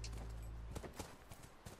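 Horse hooves clip-clop at a ranch in the video game The Last of Us, with several soft, evenly spaced thuds after a low rumble fades out, faint and close.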